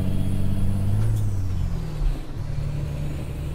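A heavy truck in American Truck Simulator with its differentials locked, a loud steady engine drone with a rising gear whine and a faint hiss, continuous with no talking.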